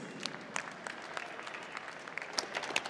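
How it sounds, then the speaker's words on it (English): Steady crowd applause for two super bantamweight women boxers after a six-round fight, a dense, continuous patter of many hands with a few sharper nearby claps, heard without any talk. "can we please have a round of applause for these super bantamweight warriors?"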